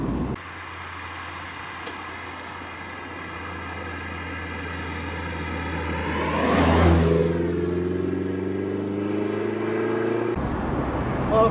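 A Toyota MR2 Mk3 drives and accelerates, its close engine drone climbing steadily to a loud peak and then easing back to a steadier cruising hum, with no voices.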